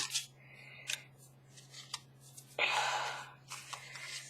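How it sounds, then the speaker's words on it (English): Scissors snip a small piece off a paper book page tag, several short crisp cuts close to the microphone, with one longer slicing cut midway and quiet room hum beneath. "cut that little piece off"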